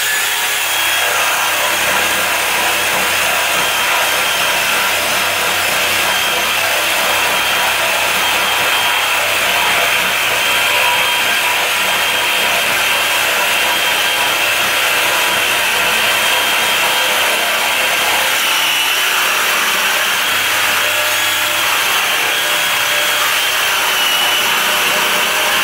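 An Irwin Speedbor drill bit bores down through 150mm timber under a power drill, a loud, continuous high whirring grind that holds steady for the whole stretch without breaks, with no talking.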